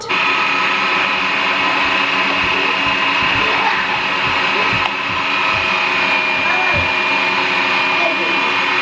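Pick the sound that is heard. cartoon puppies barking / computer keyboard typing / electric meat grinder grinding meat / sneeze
electric meat grinder grinding meat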